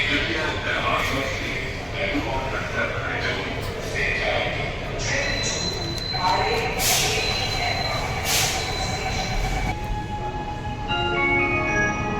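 Mumbai Metro Aqua Line 3 underground train in motion, a steady rumbling hum with rattles and occasional chimes heard from inside the carriage, with people talking over it throughout.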